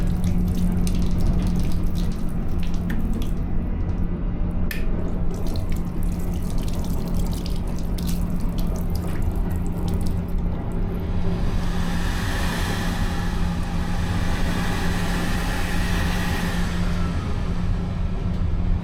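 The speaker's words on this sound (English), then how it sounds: "Opposite that was a sink with hot running water" Water runs steadily from a tap into a train toilet's sink on an Irish Rail Dublin to Cork service, a constant splashing rush over a low hum, close by with no voices.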